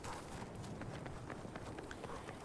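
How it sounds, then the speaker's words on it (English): Quick running footsteps in Battlefield 2042, a rapid patter of steps at moderate distance over a busy game background, with no speech. "I think there's enemies here. I hear footsteps."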